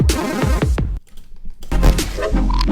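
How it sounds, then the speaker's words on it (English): A short wooden knock made as a wood block sound effect for motion graphics interface sound design plays in a quick run of close, dry hits, some of them reversed, with no talking. "It's a little wood block sound."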